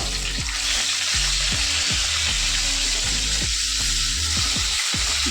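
Pieces of silver carp fry in hot oil and are turned in the pan, giving a loud continuous sizzle broken by repeated soft scraping strokes.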